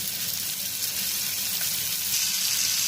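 Stuffed pomfret frying on low gas, a steady, even sizzle of hot oil that holds at a constant level throughout, close and continuous with no talking.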